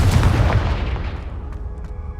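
A single Confringo blasting spell explosion in Hogwarts Legacy: one loud, close boom with a rumbling burst that decays over about two seconds, followed by faint lingering crackle.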